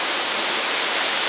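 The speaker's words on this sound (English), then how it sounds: "I'm actually under the waterfall right now, hanging out." Hissing spray of a waterfall on a hiking trail heard from underneath, a steady loud wash of broadband rushing water with no other sounds.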